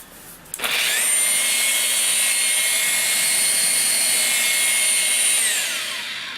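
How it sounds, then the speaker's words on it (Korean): Bosch GPO12CE polisher spinning a wire brush to texture wood grain, a loud steady high-pitched whine that spins up quickly and holds for several seconds before easing off slightly, with no talking. "이렇게 나무의 연한 부분을 깎아내서 나무 결을 돋보이게 할 수 있는 브러쉬이고"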